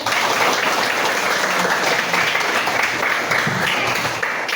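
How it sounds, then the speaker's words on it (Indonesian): A class of tenth-grade students clapping together in a classroom, loud, dense and continuous applause throughout with little else heard. "tepuk tangan dulu"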